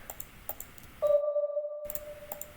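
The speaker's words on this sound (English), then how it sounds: "there's like a little bell sound" A small bell tone rings out briefly at the start of a trap melody and sustains for under a second, ringing clearly against soft clicky percussion.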